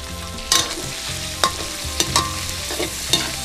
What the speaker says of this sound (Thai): จากนั้นหนูใส่น้ำซุปลงไปในผัก ประมาณนี้นิดเดียว